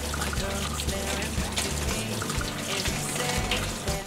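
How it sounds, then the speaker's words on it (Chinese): Drinking water pours steadily over freshly cooked tapioca pearls in a strainer, a close, continuous splashing trickle with no talking. "用直饮水冲洗"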